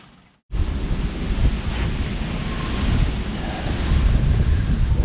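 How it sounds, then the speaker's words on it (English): Hurricane Fiona wind roars over a boat in a steady, loud rush that builds after a brief quiet start, buffeting the microphone, with no voices. "Wind is howling."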